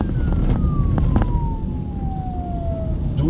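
An ambulance siren wails past on a Guyanese road, its long tone sliding steadily downward as the vehicle goes by, over rumbling traffic noise.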